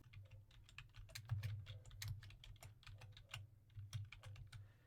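Someone typing a terminal command on a computer keyboard: a quiet, steady run of close key clicks with brief pauses, no talk.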